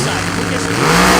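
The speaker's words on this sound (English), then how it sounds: "I think wins for the loudest dragster on the property" A Pro-Charged drag racing dragster engine roars loud and dense for about a second, its pitch climbing at the end, with a voice talking over it at a drag racing main event.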